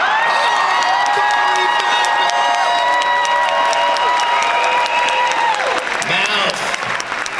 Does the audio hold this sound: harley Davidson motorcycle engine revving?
no